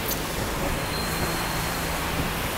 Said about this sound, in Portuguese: É um trem bem rápido.